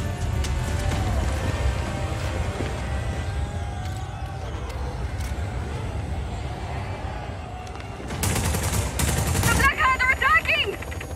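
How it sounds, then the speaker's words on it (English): Wing cannons in a tornado-themed video game fire in rapid bursts near the end, over a constant low rumble and mechanical clatter, with a brief voice in the background. "Engaging cannons..."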